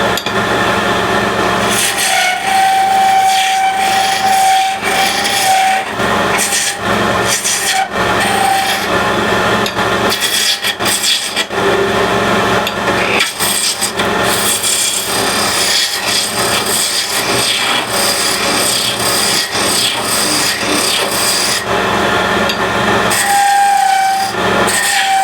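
Thin wooden spindle turned on a lathe, loud continuous rasping and scraping as the tool cuts, with brief shifts and a few squealing tones, no speech.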